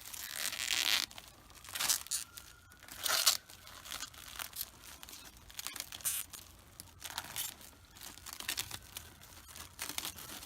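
Protective rubbery plastic film peels off a new Spec-D tail light for a Genesis in a string of close, crisp tearing and crinkling bursts, uneven in rhythm, with quiet gaps between pulls.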